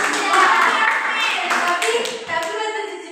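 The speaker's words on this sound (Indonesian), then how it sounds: "tepuk tangan dulu" A classroom of children claps together in a short, steady patter, with children's voices calling out over and through the clapping for the whole few seconds.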